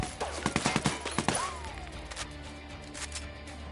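Rapid gunfire in the video game Ghost Recon Wildlands, a close burst of repeated shots followed by scattered distant shots and crashes over a steady game background, with no voices.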